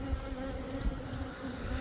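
Honey bees buzz steadily at a hive, a dense droning hum with a few louder passes of individual bees close by, continuous and alone without talk.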